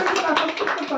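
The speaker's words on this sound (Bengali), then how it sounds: "সবাই একটা হাততালি দাও।" A crowd applauds together for a child receiving a prize at a small gift-giving gathering: dense, steady clapping that fills the whole second at close range.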